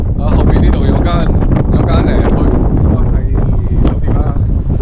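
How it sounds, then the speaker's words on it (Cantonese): Strong wind gusts buffet the microphone on the Folkestone seafront, a loud, continuous rumble, while someone talks over it. "哇好大風啊！ 大風到咧我把聲都震埋啊"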